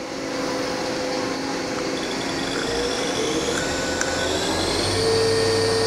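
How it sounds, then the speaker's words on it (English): The spindle of a Haas VF1 CNC mill runs at 3000 RPM, giving a loud, steady mechanical whine over a constant roar of machine noise, with a faint tone that slowly rises and no voices. "Spindle 3000 RPM."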